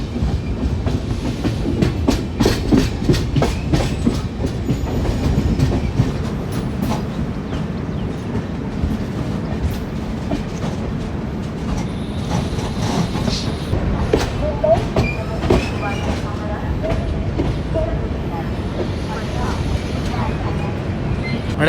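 Thiruvananthapuram Rajdhani Express running on rails near Ratnagiri, heard from inside with a continuous rumble and rhythmic clickety-clack of wheels over rail joints, with a voice talking over it.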